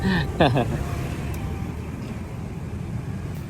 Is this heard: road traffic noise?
yes